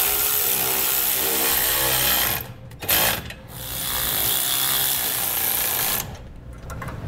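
Hardware nuts tightened with hand tools while fitting Firestone Ride-Rite rear air helper springs on a 2012 Ford, dense close ratcheting and metallic clicking that runs steadily and pauses briefly twice.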